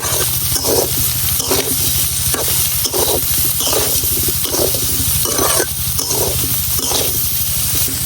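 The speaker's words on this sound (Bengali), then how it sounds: "আলু আর সয়াবিনটা আমি তেলের মধ্যে কিছুক্ষণ ভাজা নিছি" Potatoes and soybeans fry in oil in a pan under a steady hiss, broken by regular bursts of stirring every second or so, with a low hum running underneath.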